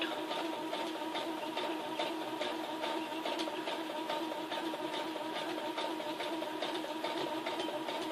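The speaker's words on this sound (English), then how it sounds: "And I'm sewing it like this all the way around it." A sewing machine stitches around a dress sleeve with a fast, steady mechanical whirr and rhythmic needle clatter, close but fairly quiet, running without pause.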